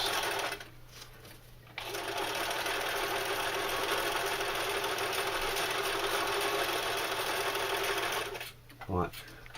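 A sewing machine stitches a knife carrier, running in a steady mechanical whir for several seconds, then stopping and starting again briefly, with faint talk around it.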